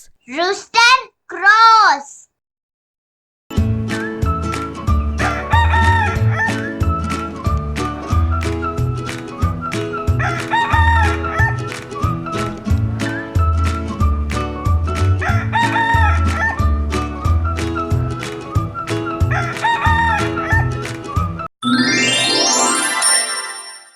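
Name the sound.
rooster crowing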